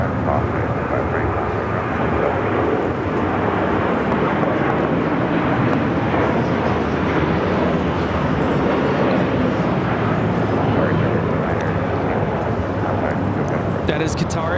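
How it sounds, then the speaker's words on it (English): Qatar Airways Airbus A350-1000 taking off at LAX for Doha, a loud, steady broadband jet roar sustained throughout, with people talking over it. "That is Qatar Airways 740 taking off to Doha on the A350 1000"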